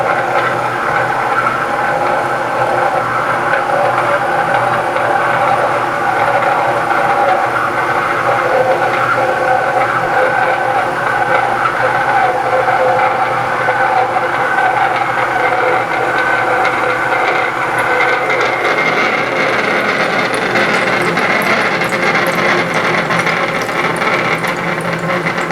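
A metal lathe cuts through a workpiece in a loud, continuous grinding and rattling drone that shifts in tone near the end, with no voices.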